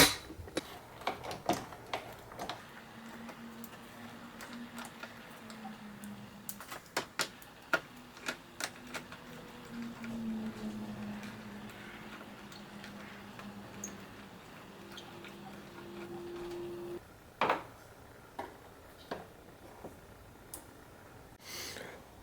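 A 14mm socket wrench ratchets on the battery hold-down bolt of an MK4 Jetta or Golf 1.8T, giving bursts of quick close clicks between quiet pauses, with a faint drone underneath.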